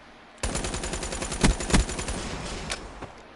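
Rapid automatic gunfire rattles through a multiplayer shooter video game, a dense, close burst with a few louder shots punching through the stream of rounds before it cuts off.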